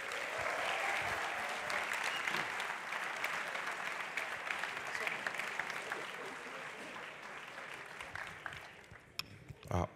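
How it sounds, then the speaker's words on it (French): Audience at a business-school event on stage applauding steadily, a dense wash of clapping that holds for about ten seconds and fades slightly, with a few louder individual claps near the end. "Ah, moi, j'ai pas eu tous ces applaudissements."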